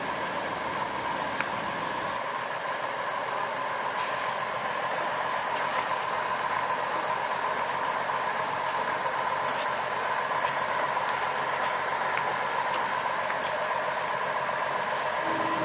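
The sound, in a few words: sugar cane train locomotive moving along grass-covered rails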